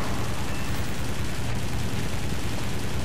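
The Ki-61 fighter's Japanese .50-caliber machine guns fire in War Thunder, a steady, dense, roaring burst of rapid gunfire that runs unbroken and fairly loud for a few seconds.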